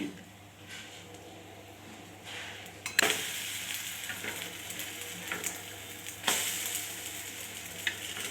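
Egg-dipped bread slices for French toast frying in oil on a slow flame, giving a soft, close sizzle with occasional louder hissing bursts as the bread is placed and moved.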